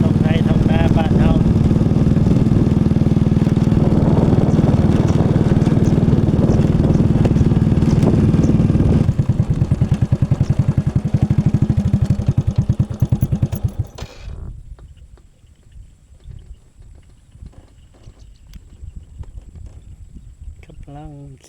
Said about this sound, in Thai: ขี่รถเลาะเบิ่งท้องไร่ท้องนาบ้านเฮ